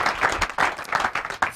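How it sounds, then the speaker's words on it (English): Studio audience applauding a president at a Nigerian public-relations event, a brief burst of steady clapping with uneven swells, fairly close and alone. "let's give ordinary president a big round of applause"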